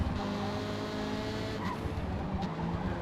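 Race car driven hard around the Fujimi Kaido track in a racing video game, a steady loud engine drone with tyre squeal and skidding over it, close and continuous.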